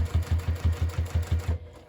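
A sewing machine stitches a Divina handbag in a steady run of about nine rhythmic needle strokes, close and alone, stopping abruptly near the end.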